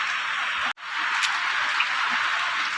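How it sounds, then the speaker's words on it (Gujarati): Heavy rain pours steadily outside in a continuous loud hiss, with a short dropout partway through and no talking. "વરસાદ બતાવીએ વરસાદ હાલ કેવો પડે છે જોઈ લો"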